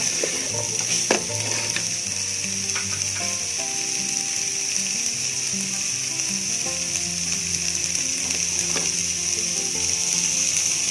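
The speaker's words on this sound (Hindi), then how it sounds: "इसको अच्छी तरह भून लेंगे।" Onion, cabbage and other soup ingredients frying in a pan for chicken soup, a loud continuous sizzle with clinks and scrapes of stirring throughout, close up and without speech.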